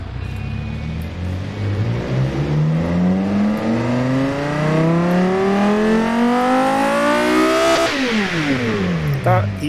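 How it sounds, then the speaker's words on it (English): Lamborghini V10 engine in the car-building game Automation, revving loud and close as the pitch climbs steadily for about eight seconds, then drops sharply and begins to rise again. "Now we should have a Lamborghini V10."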